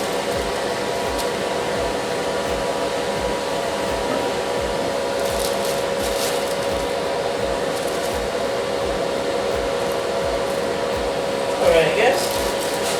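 A dual-fan spray booth's fan runs with a steady, close, even whoosh and hum throughout, with a faint brief voice near the end.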